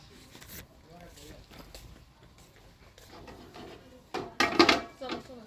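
Metal pot lids and pans handled in a shop: soft clinks and scrapes, then a louder burst of clattering metal near the end, under ongoing conversation.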